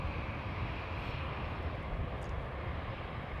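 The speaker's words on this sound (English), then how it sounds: "We're waiting for the Emirates A380." An Emirates Airbus A380 on approach to land at Amsterdam Schiphol's Polderbaan runway gives a steady, distant engine roar. The low rumble stays even and faint throughout, with no talking.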